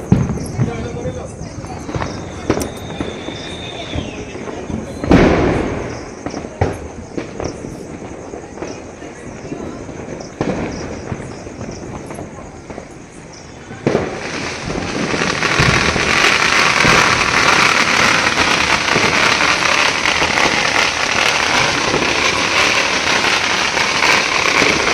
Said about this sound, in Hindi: पटाखों का कैसा शोर मच रहा है